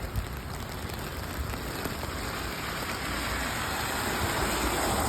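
Steady winter rain in New York pours down in a continuous broadband hiss, with a low rumble underneath, no wind and no voices.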